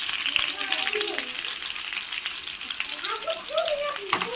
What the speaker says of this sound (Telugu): అవి కూడా వేసాను తాలింపు.